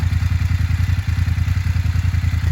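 A Yamaha Tenere motorcycle stuck in mud, its engine held at high revs in a fast, throbbing pulse that stays loud and close, with a brief dip in the middle.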